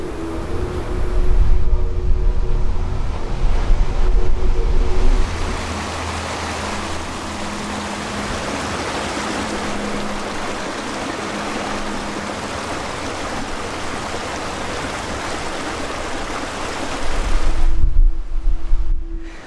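Surf breaking on a wild West Coast beach in New Zealand, a broad steady roar of waves with heavier surges near the start and end, plus some wind rumble on the microphone, and no voices.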